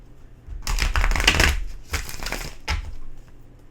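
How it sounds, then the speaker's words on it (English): A deck of tarot cards is shuffled by hand in a few quick bursts of riffling and slapping, close and crisp, with short pauses between them and no talking. "Three more shuffles."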